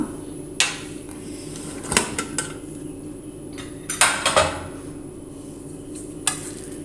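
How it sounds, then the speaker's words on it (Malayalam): Metallic clanks and knocks of a pressure cooker lid being opened, a few sharp clatters spaced across a quiet kitchen background. "നമുക്ക് കുക്കർ തുറന്ന് നോക്കാം"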